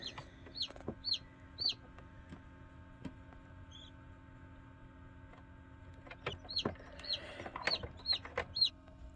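Newly hatched chicks peep inside a home incubator on hatching day, with sharp high chirps in quick clusters near the start and a faster run of calls near the end over a steady hum.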